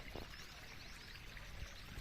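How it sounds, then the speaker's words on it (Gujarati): Water pours steadily into a borewell for recharge through an underground-fed pipe, a continuous close rushing and splashing that runs throughout with no voices. "જે ગતિથી પાણી આવી રહ્યું છે એ જ પાણી તમે જોઈ શકો છો બધું અંદર ચાલી રહ્યું છે"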